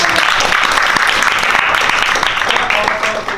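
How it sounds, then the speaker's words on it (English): Loud audience applause at a poetry open mic on MLK Jr. Day, dense continuous clapping filling the room for a few seconds with faint voices mixed in, tapering slightly at the end. "So clap it up for that."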